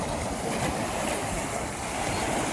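Ocean waves on an island shore at rising tide roar and wash in a dense, continuous rush, loud and close with no pauses.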